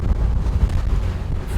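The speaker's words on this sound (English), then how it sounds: "Bouncing into the waves is never fun." At sea aboard a family sailboat motoring from Greece toward Syracuse, Italy, heavy wind rumbles across the microphone while the hull bounces into waves, a loud, dense, continuous roar.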